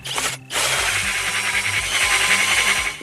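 A big ice-coring drill bores a core out of rotting first-year Arctic sea ice, a steady grinding motor drone with a brief dip near the start, close and continuous.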